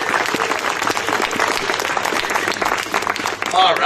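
Audience applause at an outdoor Earth Day rally in a park, a dense, steady wash of many hands clapping throughout, mixed with crowd noise and voices.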